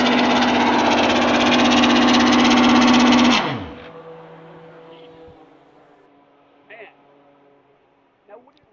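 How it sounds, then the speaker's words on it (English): A race car engine at the Daytona Classic 24 screams loud and steady at high revs for over three seconds, then drops sharply to a quiet rumble, with a few faint knocks and voices afterward. "So we rev it onto the limiter."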